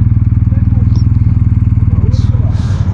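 Motorcycles idle and rumble loudly nearby as a group gathers to set off on a ride, with a steady throbbing engine pulse and faint clatter and voices in the background.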